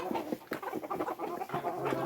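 Backyard flock of chickens in a new coop during winter, clucking in quick overlapping bursts at moderate distance, fairly soft and busy throughout.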